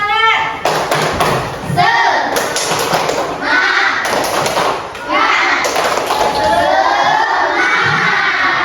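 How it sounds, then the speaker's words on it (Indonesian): Schoolchildren in a classroom perform a rhythmic spirit clap chant, with bursts of group claps and taps alternating with loud shouted chanting voices, close and energetic. "kita tepuk semangat dulu ya"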